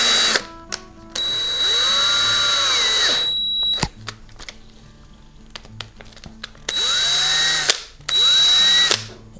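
A power drill bores holes for a small valve part in three loud, steady bursts, the first running about three seconds and the later two shorter, with quiet gaps of faint clicks and handling between them.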